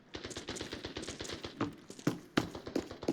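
Rapid, evenly spaced footsteps thud in a video game, a quick run of mid-distance steps with a few sharper, louder impacts toward the end.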